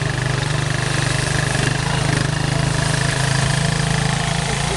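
A motorbike engine idles close by with a steady low throbbing rumble and an even rhythm throughout, with no talk over it.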